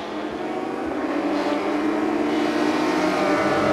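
A Porsche Supercup race car at the Bahrain circuit screams past with a loud, steady, high-revving engine note rising slightly, other engines blending in the background, no talking.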